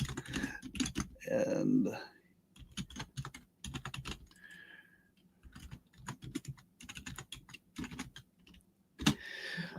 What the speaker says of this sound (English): I can talk faster than I can type